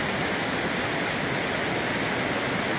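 Rushing water pours over slick rocks on a farm after heavy rain, a loud, steady broadband roar close by with no pauses and no voices.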